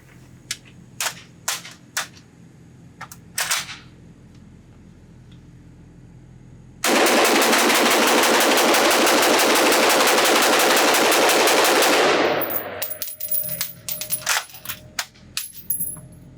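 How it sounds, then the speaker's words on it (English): Belgian FN FS2000 Tactical bullpup rifle at an outdoor range: a few single shots, then a loud, continuous stretch of rapid gunfire lasting about five seconds, followed by scattered clinks and rattles. "Let me load up one more magazine, shoot this thing as fast as I possibly can"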